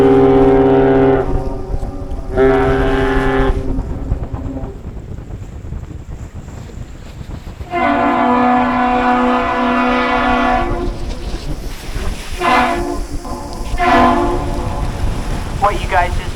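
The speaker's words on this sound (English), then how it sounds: "It is one long and two short blasts of the horn." The lake freighter Edwin H. Gott sounds a captain's salute near Duluth: one long blast followed by two shorter blasts, loud and close, with wind noise in between.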